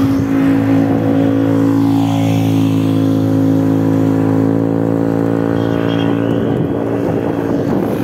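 A motorized tricycle engine drones loud and close near the Philippine Arena in Bocaue, Bulacan, holding a steady low, buzzing hum for several seconds before its tone shifts and roughens toward the end as it goes by.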